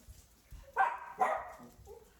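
Chihuahuas giving two sharp, close barks a half second apart, with a fainter yip trailing after, in a home kitchen during cooking.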